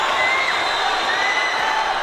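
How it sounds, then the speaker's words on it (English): Boxing arena crowd during a pro fight, a dense continuous roar of shouting and cheering that stays loud and steady throughout. "Ilunga Makabu, getting his crowd now shouting and trying to encourage him"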